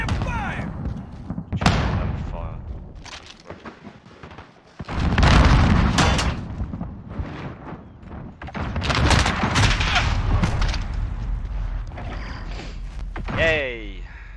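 Bursts of gunfire and heavy thumps come from a Call of Duty Modern Warfare Beta match. Shots arrive in irregular clusters, and players shout and talk over them.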